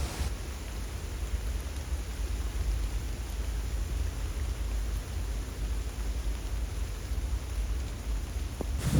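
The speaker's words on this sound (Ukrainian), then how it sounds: "Зірвався дощ, але, мабуть, буде веселка, бо дощ сильний" Dense, steady rain hisses evenly throughout, a continuous wash of noise with a low rumble underneath and no voices, falling during a pike fishing outing.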